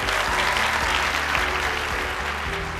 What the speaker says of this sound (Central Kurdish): چەپڵەیەک بۆ مامۆستایانی فیزیا.